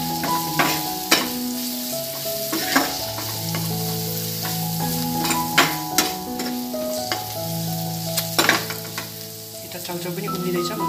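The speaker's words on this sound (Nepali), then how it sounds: "मसला हालेर मजाले एकपटक चलाइदिनु होला।" Instant chowchow noodles tossed with masala in a frying pan: steady sizzling with sharp scraping clacks of stirring at irregular intervals, close by, under continuous background music.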